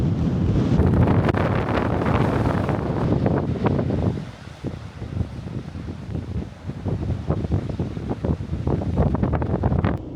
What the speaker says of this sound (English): seems as it's awfully windy today